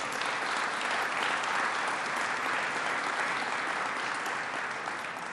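Dense, steady applause from a sizable crowd at a casino resort grand opening, sustained at an even level and tapering slightly at the end.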